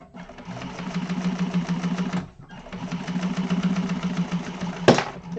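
A sewing machine runs in two quick bursts of rapid, even mechanical chatter while top stitching an organizer bag, with a brief pause between them, close and fairly loud, followed by a sharp clunk near the end.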